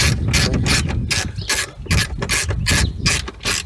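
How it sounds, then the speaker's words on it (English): A ratchet wrench tightens the bolts on the rear strut of a 2002 Chevrolet Cavalier: rapid, loud, close metallic clicking in repeated even strokes with no talking. "It's gonna tighten up that other bolt."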